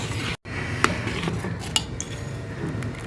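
A metal spoon stirs a sweet dessert of colored vermicelli in a pot, giving a couple of light clinks against the pot over a steady low background.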